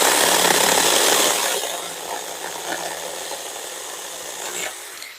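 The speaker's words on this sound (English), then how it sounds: "Let's go ahead and chop this guy down." Battery mini chainsaw cutting through a dead, dry tree branch about 2.5 to 3 inches thick: loud close buzzing whine and rattling cut, strongest at first, then a lighter steady chatter until the branch gives way.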